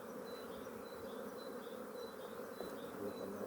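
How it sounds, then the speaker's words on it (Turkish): Honeybee drones buzz steadily at an open tiered hive during a beekeeping inspection, a dense, continuous close hum with brief higher whines from individual bees passing near. "Erkek arılara bak hele."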